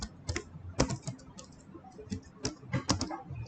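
Keystrokes on a computer keyboard during a physics lesson on Newton's laws come in irregular bursts of crisp clicks, close and moderately loud, with no voices.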